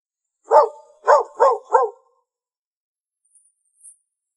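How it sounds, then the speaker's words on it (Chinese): A single dog gives four sharp, close barks in quick succession, then falls silent apart from a couple of faint high chirps. "牵条狗过来。"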